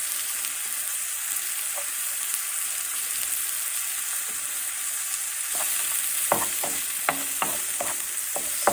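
Onion and garlic frying in a pan for chicken marsala: a loud, constant hissing sizzle, with a cluster of sharp spatula taps and scrapes toward the end, close up and without voices.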